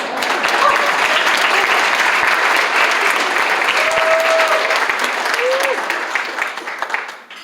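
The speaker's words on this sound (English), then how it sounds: "You can clap for that." A large crowd applauds loudly and steadily for several seconds, with a brief cheer, before the clapping tapers off.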